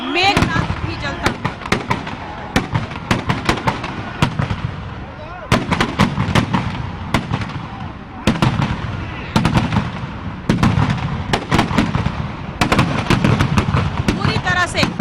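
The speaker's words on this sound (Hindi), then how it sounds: "विस्फोट आप सुन सकते हैं" Firecrackers explode inside a burning Meghnath effigy at a Dussehra celebration in Siwan, a long run of loud cracking bangs in dense irregular bursts, heard alongside crowd noise and a voice talking.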